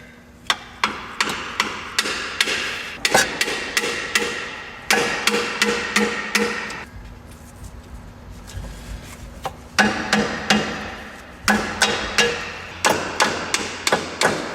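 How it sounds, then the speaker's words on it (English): Sharp metallic hammer taps drive a pry bar under the automatic transmission pan of a 1997 Subaru Legacy, coming in quick clustered bursts separated by short quiet gaps, close and clear. "I'm going to switch back to my pry bar. I'm just going to see if I can get in there."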